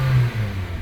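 The engine of a 2015 Honda Fit LX hatchback with a 6-speed manual gearbox revs briefly, a loud, close, steady engine hum with no voices.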